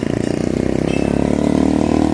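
A motorcycle rides along a road, its engine droning steadily and loudly up close with a rhythmic pulse, and no one speaks.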